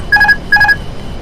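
A320 autopilot disconnect alert in the Prepar3D flight simulator, two short identical electronic chime tones in quick succession, clear and alone over faint cockpit hum.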